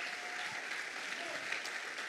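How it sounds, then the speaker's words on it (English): A church congregation claps in a steady, dense round of applause that runs throughout, moderately loud with a few louder hand claps standing out. "Why don't you give God a big round of applause,"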